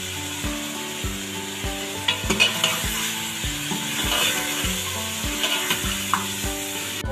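Garlic, ginger and beef leg meat are stirred and fried in a pan for nihari, with a spoon scraping and rubbing in repeated strokes over a constant sizzle and soft tonal background music.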